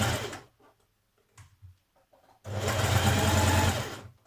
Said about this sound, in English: stitch all the way around your neck facing